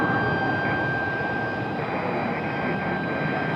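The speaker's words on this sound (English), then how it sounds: "Loud little exec jet taking off." A small executive jet takes off from Raleigh-Durham International Airport, its engine roar loud and steady throughout with a constant high whine running over the broad rumble.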